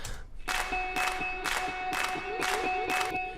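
Sampled handclaps in an EDM track, a sharp clap landing roughly every half second in a steady, loud pattern over sustained synth tones.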